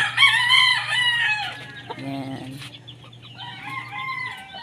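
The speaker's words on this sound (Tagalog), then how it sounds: "meron pa sa loob mga tandang" Hens and roosters in a chicken coop with egg-laying nests, a loud rooster crow ringing out first, then hens clucking and squawking nearby over a steady low hum, as someone speaks a word briefly.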